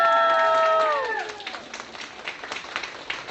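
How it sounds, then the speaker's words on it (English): A voice trails off, then a crowd's applause follows at a board meeting, a dense patter of claps that holds steady to the end. "Please give her a round of applause."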